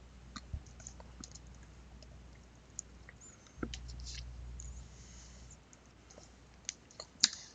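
A computer mouse clicks in the game World of Xeen Epic Remix, giving sparse, quiet clicks at irregular intervals. Low background noise sits between them and no one speaks.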